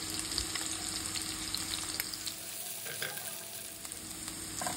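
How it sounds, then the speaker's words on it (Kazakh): Onion and garlic frying in oil over medium heat for Uyghur lagman, a continuous moderate sizzle with occasional stirring scrapes, close and steady. "Пиязды орташа отта қызарғанша қуырып алдым"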